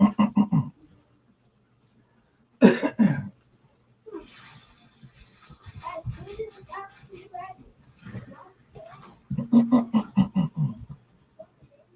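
Bursts of harsh, repeated coughing come in fits, with a muffled voice speaking between them.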